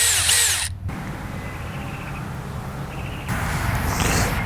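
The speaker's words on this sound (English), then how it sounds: "Now add a dab of polish to a pad and start buffing." A power drill whirs loudly, drops to a quieter steady spin buffing a headlight with a polishing pad, then revs up loud again near the end.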